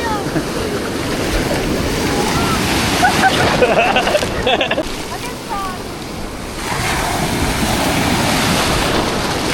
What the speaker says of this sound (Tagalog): Lakas ng alon, palibasa, umulan kanina ng umaga.